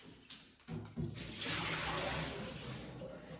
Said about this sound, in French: Je vais jeter cette eau là.